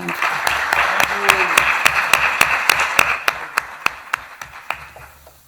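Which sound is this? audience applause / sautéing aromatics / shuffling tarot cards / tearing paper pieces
audience applause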